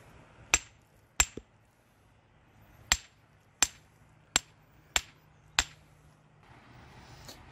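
A hammer stone strikes flint in a creek, sharp isolated cracks landing about seven times at uneven intervals, close and distinct over faint flowing background noise.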